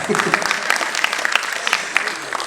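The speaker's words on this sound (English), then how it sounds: "so you can clap" Spectators at the Nrityaaradhana 2022 dance recital clap after a dance ends, a short burst of moderately loud, uneven hand-clapping from a modest crowd, with faint voices underneath.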